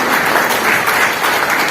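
Applause from an audience at a Nepali political gathering, a steady dense wash of clapping that runs loud and unbroken for the whole moment, with no voice over it.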